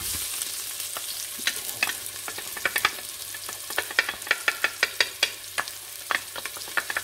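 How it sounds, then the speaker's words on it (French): Shallots fry in a pot for veal osso buco, a steady close sizzle under repeated sharp scraping strokes of a spoon stirring them. "Il va falloir déjà tout faire dorer. Donc déjà, on va mettre les échalotes."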